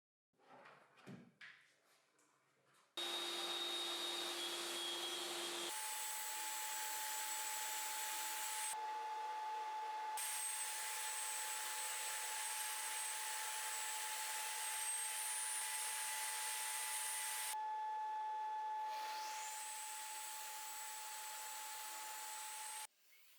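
A power saw cuts through the wooden base of a homemade sliding crosscut table for a table saw, a loud steady whine with several distinct cutting passes separated by brief pauses, close and alone without talk.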